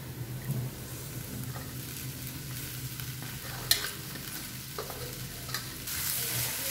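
Okra frying in a pan with spices while being stirred, a steady low sizzle with soft scraping strokes and a few sharper clinks, close and moderately quiet, no talking.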